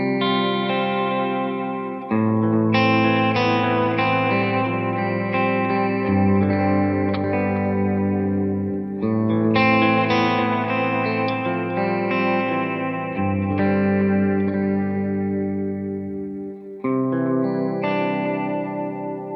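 Clean electric guitar played through a BluGuitar Amp1 pedalboard rig with reverb, strummed chords ringing out loud and sustained, shifting every couple of seconds with a wash of reverb, no talking.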